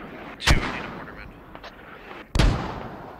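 Two heavy mortar impacts in the military game Squad land about two seconds apart, each a sharp booming blast with a rumbling tail, with faint background activity between them.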